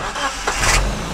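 An RV engine cranks and catches, then revs up briefly and loudly close by, with no talking.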